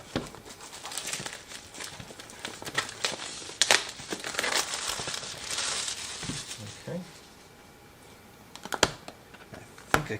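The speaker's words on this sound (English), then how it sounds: "I'm basically just going to kind of cut through this little seal that we had back here" Cellophane seal on product packaging being cut through, giving a run of crinkling, crackling plastic with sharp snips and rustles, close and fairly busy, then a quieter stretch before a few more crinkles at the end.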